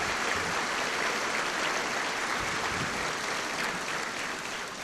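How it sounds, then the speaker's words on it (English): Audience applause at a 1999 Wadsworth High School commencement, a dense, even wash of many hands clapping at moderate volume for several seconds with no voices. "let's give them a round of applause."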